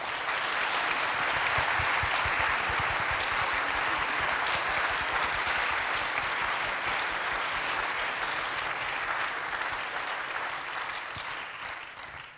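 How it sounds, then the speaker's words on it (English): Sustained audience applause at a college convocation celebrating Hispanic Serving Institution status, a full, even roar of many hands clapping for over twelve seconds, fading slightly at the end. "Can we give them a round of applause?"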